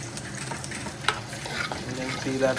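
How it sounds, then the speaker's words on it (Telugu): Garlic sizzles in a pan while being stirred, a continuous close frying hiss with scraping spoon strokes and small clicks over it. "ఇట్లా దీంట్లో మనం కొంచెం ఇప్పుడు వెల్లుల్లి వేసుకున్నాము."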